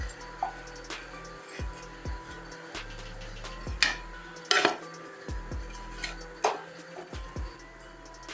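Chapati cutlets being lifted out of a frying pan, with repeated metallic clinks and scrapes of a utensil against the pan, spaced and fairly close, plus a quiet sizzle underneath.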